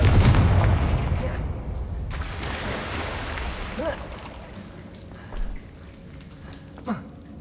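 In Hogwarts Legacy, the Confringo blasting spell sets off a loud explosion with a low rumbling boom that fades out over several seconds. Smaller magical whooshes and faint thuds follow in the background.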